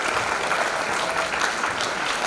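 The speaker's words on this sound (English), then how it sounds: "give a big round of applause" Audience at an English Week celebration applauding steadily, a dense, even wash of clapping sustained from start to finish with no voices on top.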